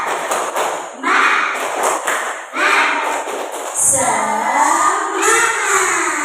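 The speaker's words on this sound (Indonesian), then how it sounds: "kita tepuk semangat dulu" A primary-school class doing a rhythmic 'tepuk semangat' clap, bursts of group clapping in patterned beats mixed with children's chanting voices, close and lively.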